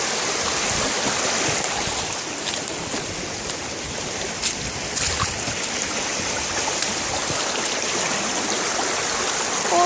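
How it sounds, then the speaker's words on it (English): A brook swollen by rain and snowmelt rushes fast and deep, a loud, continuous churning roar close by with splashy bursts on top, sustained throughout with no speech. "That's a lot of friggin' water coming down there."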